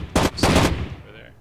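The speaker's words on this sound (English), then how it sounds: "Oh, I heard gunshots come towards me." Gunfire in the tactical shooter Rainbow Six 3 Raven Shield, two sharp loud bursts of rapid shots close together, followed by a fading echoing tail, with no talk during them.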